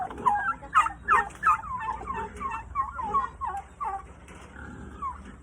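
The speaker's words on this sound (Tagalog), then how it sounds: "Mga pabo." Several turkeys gobble in repeated rapid bursts, fairly close and loud, with a steady low background hum and no talk.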